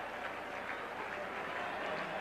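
A large crowd at Dodger Stadium during a 1980 playoff baseball game between the Astros and Dodgers, producing a steady, distant wash of applause and cheering that holds evenly throughout.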